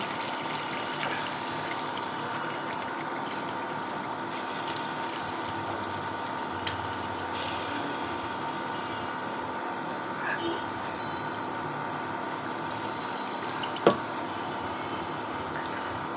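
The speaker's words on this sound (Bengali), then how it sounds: "এ পর্যায়ে আমি এই যে কৌটাটা ধুয়ে পানি দিয়ে দিচ্ছি।" Water from a rinsed container is poured into a chicken curry with broccoli and capsicum. It makes a steady, faint liquid hiss over a low background hum, with one small clink near the end.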